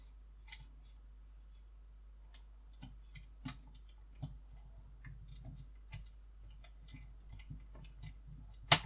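A small screw is driven into the chest plate of a Terminator model, heard as faint, scattered ticks and clicks close by in a quiet room, ending in one sharper click.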